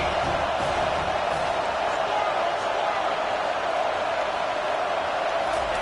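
College football stadium crowd at a Clemson game, a steady loud roar from many fans that holds without a break as the opposing team is pinned deep in its own end.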